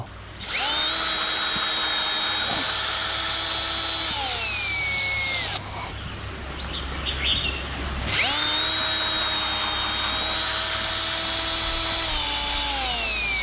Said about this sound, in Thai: เดี๋ยวเราลองมาเจาะดูกันเลย